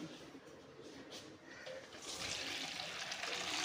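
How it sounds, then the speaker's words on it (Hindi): Water is poured from a filled vessel into a cooking pot of seasoned chickpeas, starting as a soft trickle and swelling into a steady, louder rushing pour. "और अब हम इसके अंदर डालेंगे पानी।"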